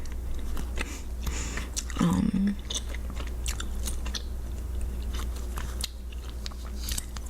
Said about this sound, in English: there's a lot of gum in my mouth right now